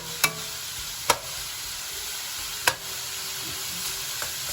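Ingredients sautéing in a pan for laing, stirred until golden brown: a steady sizzle of frying runs throughout, with a few sharp clinks of a utensil against the pan.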